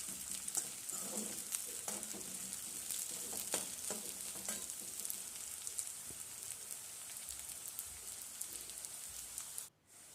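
Jackfruit pieces fry in a pan for a traditional taro-leaf and jackfruit stir-fry, giving a steady close sizzle with crackling pops throughout that cuts off abruptly at the very end.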